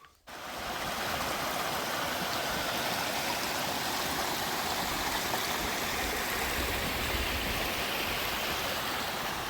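Kilby Creek on the Appalachian Trail below Standing Indian Mountain flows steadily, a close, broadband rushing babble of water that stays loud and constant throughout with no voices.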